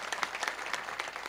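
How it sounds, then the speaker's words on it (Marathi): Audience clapping steadily throughout at a Marathi kirtan devotional gathering, a dense, continuous round of applause from a seated crowd. "पुन्हा एकदा सगळेजण टाळी वाजवा यांच्यासाठी"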